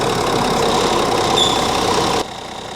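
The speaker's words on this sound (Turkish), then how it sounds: "Şimdi siz de arka fonda duyuyorsunuz. İçeride yağ dönmeye başladıktan sonra arabanın sesi değişmeye başladı arkadaşlar." Car engine idling after Brava nano complex motor oil was added, a steady, close mechanical running hum with faint ticking that continues evenly, then drops in level near the end.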